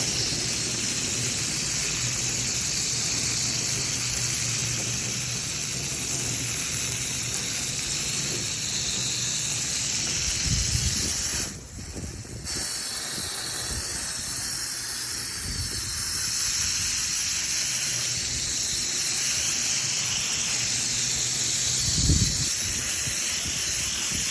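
Water spray hisses steadily against an HVAC unit during cleaning, a continuous broadband rush that holds for the whole stretch with a few brief louder bursts and a short dip midway.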